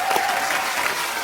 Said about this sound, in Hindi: इसके लिए भी जोरदार तालियां।